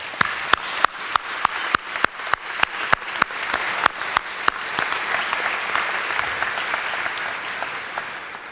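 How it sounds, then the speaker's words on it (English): Applause fills a hall at a 2013 commencement ceremony, opening with a few sharp, distinct close claps in an even rhythm before swelling into a dense, steady wash of many hands. "If you would join me in offering a round of applause."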